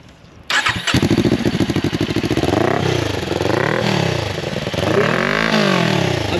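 A Kawasaki Ninja 400 with an Akrapovic exhaust and dB killer fires up after a short crank, then idles and blips with rising and falling revs, close and loud with a throaty pulse.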